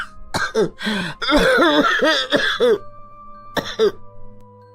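A person coughs several times in a row, harsh and close, with throat clearing between hacks, then two more short coughs after a pause.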